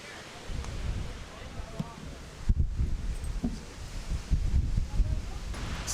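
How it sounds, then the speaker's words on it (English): Strong wind gusts over a mountain-top lookout at a cliff edge, buffeting the microphone as a steady low roar. It swells in bursts, with faint rustling and people somewhere in the background. "It's so windy."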